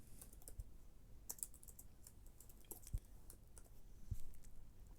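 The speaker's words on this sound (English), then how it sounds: "Let's just go ahead and just type user." Computer keyboard typing, close and quiet, comes in irregular bursts of keystroke clicks with short pauses between them.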